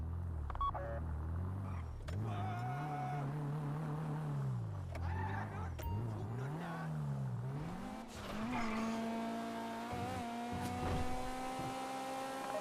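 Heist getaway car driven in GTA V Online, its engine note rising and falling through gear changes with a steady near rumble and brief tire squeals, a higher whine settling in toward the end.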